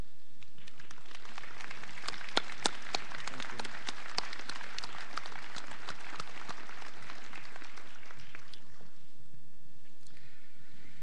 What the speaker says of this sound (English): Faculty, please stand, and let's give you a round of applause.